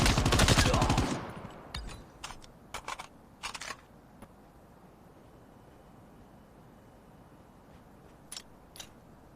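Video game gunfire fires in a dense rapid burst at the start, then a few scattered single shots and short clicks follow against a quiet background, the bursts sharp and close.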